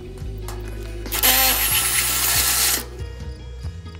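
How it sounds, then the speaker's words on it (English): A number 4 unibit stepped drill bit bores through a metal burn barrel: a loud, harsh whine lasting about a second and a half, with a steady low hum before and after. "With all those holes pre-drilled, we're gonna move on to a unibit. This is a stepped drill bit, and it's a number 4."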